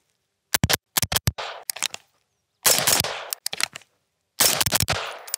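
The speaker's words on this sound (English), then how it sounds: "I haven't shot this gun in a while either" Suppressed gunfire from a B&T firearm: three close, loud bursts of rapid shots, each a tight cluster of sharp reports with a short hissing tail, separated by pauses of silence.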